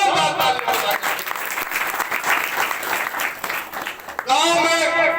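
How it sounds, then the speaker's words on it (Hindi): Loud, sustained applause from an audience at a village gathering honoring the panchayat and sarpanch's government school work, dense clapping throughout with a voice rising over it near the end. "इस बात के लिए जोरदार तालियां बजाएं"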